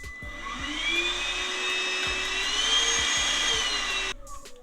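A Flex dust extractor vacuum runs with a steady, loud whine and hum, with small pitch shifts as its suction setting changes, then cuts off abruptly near the end.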